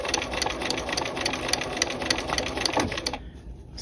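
A sewing machine stitches around a dual flap pocket, a steady close mechanical whir with rapid needle clatter running nearly four seconds before cutting off abruptly.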